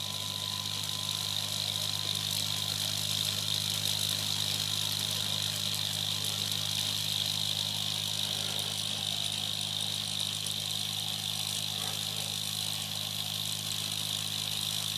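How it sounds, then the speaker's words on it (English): A small thermoacoustic engine runs with a steady, even drone and a faint high whine, holding constant for the whole stretch with no voices. "That's a nice purr, you can hear that now."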